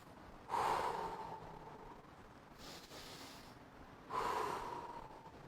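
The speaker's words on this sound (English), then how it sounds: "Nice 2 deep breaths." Two deep, audible breaths follow a Tabata workout interval, each a loud close inhale and exhale with a short pause between, and no talking.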